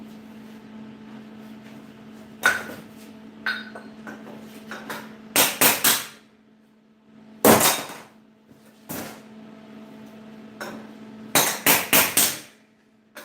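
Sharp metallic hammer taps on a stainless steel weld, delivered in scattered single strikes and quick clusters of two to four, ringing close and loud against a low steady hum.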